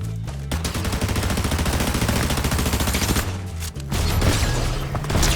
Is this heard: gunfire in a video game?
yes